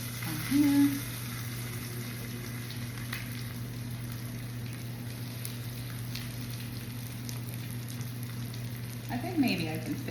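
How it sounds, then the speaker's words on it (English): Tilapia fillets frying in a hot pan give a steady, moderate sizzle with a crackling hiss throughout, and a couple of brief clatters as pieces go into the pan. "That has more sizzle."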